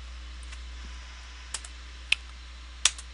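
Sparse computer keyboard keystrokes, a few crisp isolated taps spaced unevenly over a low steady hum, close and quiet.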